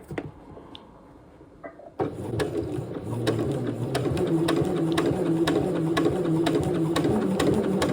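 Sewing machine stitching bias binding onto a sweatshirt: after two quiet seconds, a steady mechanical whirr with rapid regular ticking runs continuously at a moderate pace.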